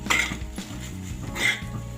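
A utensil scrapes and clinks against a pan while melted cheese pasta is mixed, two brief bright metallic scrapes with soft stirring in between, close and fairly loud.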